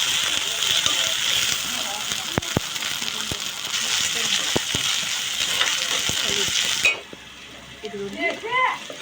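Ginger garlic paste fries in a pan, hissing and sizzling steadily while a spoon clicks and scrapes as it stirs. The sizzle drops away near the end, leaving a voice talking over the quieter pan.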